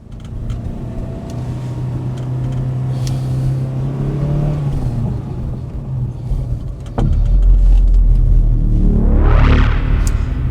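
A Porsche 914/4 engine drones steadily while driving, then the car shifts and revs up in a loud rising sweep near the end, heard from inside the car.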